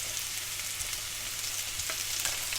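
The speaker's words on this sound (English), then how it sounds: "my oil is hot now. I'm going to put my prawns, my onions in." Prawns and white onions dropped into hot oil in a pan for salt, pepper and chilli prawns, giving a steady, close, continuous sizzle and crackle with occasional pops, no voices.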